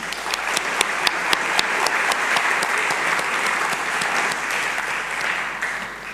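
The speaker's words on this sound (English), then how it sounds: "Give him another round of applause." Audience applause at a conference welcome session, a dense, steady wash of clapping from a full room with a few sharper claps standing out, sustained at even loudness for the whole stretch before tapering slightly.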